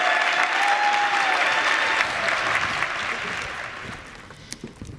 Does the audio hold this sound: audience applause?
yes